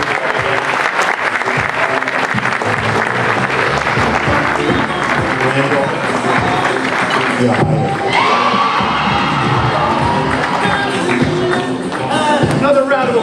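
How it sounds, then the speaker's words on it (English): An audience at a Democratic party gala fills a hall with sustained clapping and scattered cheers, loud and dense throughout, with crowd voices mixed in. "Another round of applause for Randal Pinkett."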